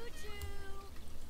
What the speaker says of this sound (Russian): Обалденный кот.